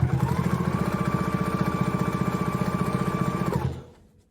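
Sewing machine stitching a long seam on a fitted sheet, running steadily with a fast even needle rhythm for about three and a half seconds, then stopping; close and loud with no talk.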